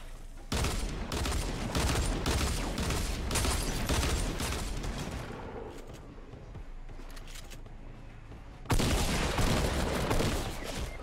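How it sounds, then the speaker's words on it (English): Rapid bursts of gunfire in Fortnite Battle Royale, dense rattling volleys that stop briefly for a quieter stretch before another loud barrage resumes, close and harsh. "Someone's taking shots at me,"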